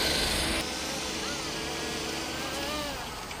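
Cheap GD-006 Diamond DA62 twin-engine RC airplane flying outdoors, a steady whining motor and propeller drone with wind rush, fairly loud and slowly fading toward the end.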